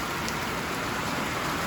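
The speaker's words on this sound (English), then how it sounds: "So it started pouring rain about 10 minutes ago" Heavy rain pours down steadily in a backyard where a tote collects runoff for a rainwater catchment setup, a dense, even hiss with no breaks and no voices.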